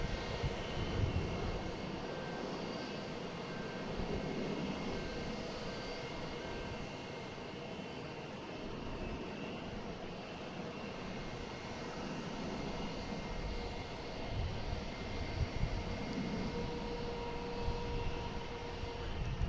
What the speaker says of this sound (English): JetBlue coming in. From Reagan, an A220.